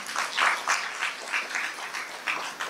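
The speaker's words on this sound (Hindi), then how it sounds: "तालियां तो बजाओ भाई।" An audience claps at a devotional gathering, giving a light, uneven patter of handclaps in loose bursts that rise and fall for a few seconds.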